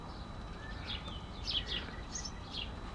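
Small birds chirping in a garden hedge, a run of quick bright tweets and short calls at moderate distance over a soft outdoor background hum.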